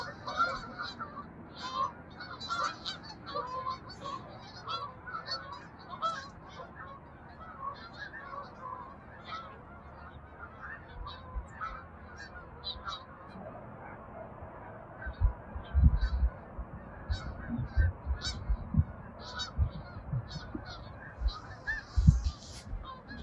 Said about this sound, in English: So that's got to be like 300 geese that just flew over.